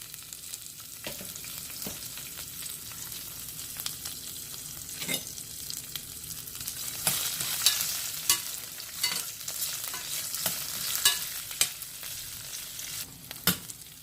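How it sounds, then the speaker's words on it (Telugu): Green chillies fry in oil in a pan with a continuous soft sizzle and crackle, punctuated by scattered sharp pops and occasional stirring scrapes, growing slightly livelier toward the middle. "మిర్చి వేగిపోయింది."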